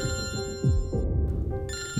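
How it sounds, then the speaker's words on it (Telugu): A mobile phone rings with an incoming call, a repeating electronic ringtone of steady tones heard close and clear, with no voices over it. "డాక్టరే ఫోన్ చేస్తున్నాడు."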